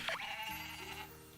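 Goat bleat from the farming game Story of Seasons: Pioneers of Olive Town, one short, quavering bleat heard alone and fairly faint.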